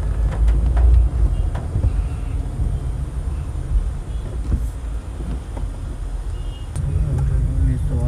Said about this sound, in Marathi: आता आपण ट्रॅफिकमध्ये अडकलोत लोणावळ्यामध्ये